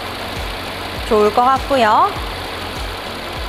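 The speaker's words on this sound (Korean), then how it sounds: "엔진 소리 일정합니다." A Mercedes-Benz S-Class W222 S63 AMG 4MATIC+ engine idles steadily with a low, even hum and faint periodic ticking. A person speaks briefly over it midway.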